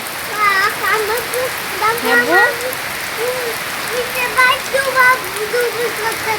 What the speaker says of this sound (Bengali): হ্যাঁ, অনেক বৃষ্টি হচ্ছে